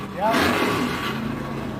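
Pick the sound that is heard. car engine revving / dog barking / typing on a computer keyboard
car engine revving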